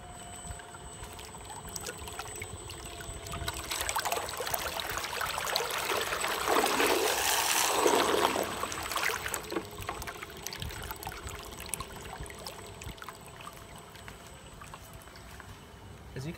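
A Blue Robotics T200 brushless thruster runs in water, giving a steady churning, watery rush with a faint high motor whine that swells in the middle and eases off, while a voice speaks quietly underneath.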